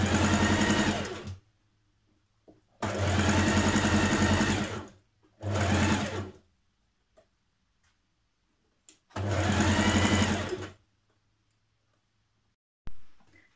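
A sewing machine stitches a 1.5 centimetre seam on a Simplicity 1356 Jiffy dress in four loud, steady bursts of a few seconds each, separated by quiet pauses with faint clicks.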